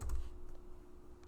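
Computer keyboard keys typed while entering a pip command, a few quick light clicks close by over a low steady hum, no voices.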